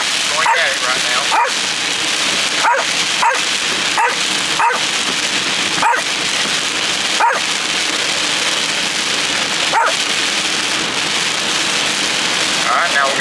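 Inside a car during a storm, a dog barks repeatedly at the windshield wipers, with loud, sharp, irregular yaps over a dense, steady roar of rain.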